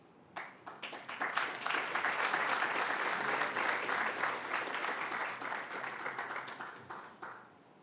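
An audience at a university academic awards ceremony breaks into applause, with individual claps quickly building into a full, sustained round that holds steady for several seconds before tapering off to scattered claps.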